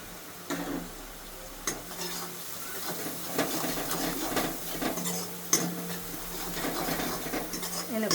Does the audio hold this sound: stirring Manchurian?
yes